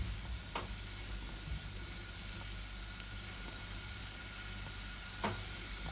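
Quiet, steady sizzle of meatballs frying in a nearly 100-year-old cast iron pan, a continuous hiss with a couple of faint clicks and no talking.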